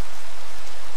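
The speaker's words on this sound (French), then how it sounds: "il pleut toujours." Rain falls in the video game Minecraft, a dense, steady hiss of loud, close rainfall with no other sounds.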